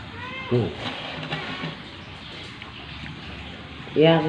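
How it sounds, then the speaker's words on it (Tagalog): A crying cat meows twice, once near the start and again near the end, both times fairly close and clear over a quiet indoor background with faint talk. "May pusa rin po kami iyakin."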